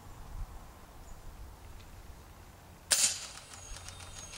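An adjustable air rifle set to its lowest power level fires a single pellet, one sharp snapping crack that rings briefly before fading into quiet room tone.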